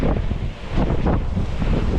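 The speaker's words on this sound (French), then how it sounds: "je ne sais pas si vous m'entendez avec le bruit des vagues, plus le bruit du vent" Ocean waves wash onto a beach under strong, gusting wind that buffets the microphone, a loud rolling roar with surges of surf rising and falling.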